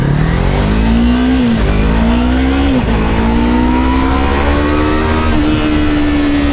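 A 2016 Yamaha MT-03 321cc motorcycle engine drones loudly and steadily, rising in pitch with short dips as gears change, with a rough burbling edge.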